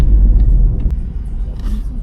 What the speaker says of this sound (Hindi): और गाड़ी हमारी चल चुकी है